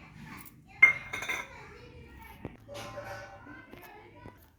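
Spices are stirred into chopped coriander in a bowl for kothimbir vadi, with a spoon clinking and scraping against the bowl in a few light, close knocks amid quiet room sounds.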